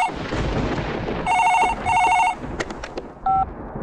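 A telephone rings in two loud bursts, then a few sharp clicks follow and a short electronic beep sounds. Nobody speaks.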